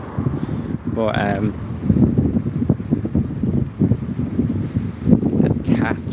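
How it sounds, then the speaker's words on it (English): Gusty July wind at Knock Shrine in County Mayo, Ireland, rumbles and buffets the microphone throughout while a person speaks briefly over it. "Sorry it's so windy"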